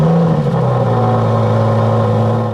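Aston Martin DBS Superleggera with a twin-turbo 5.2-litre V12 holds a loud, steady engine drone close by, its pitch dipping slightly early and then settling into a sustained rumble.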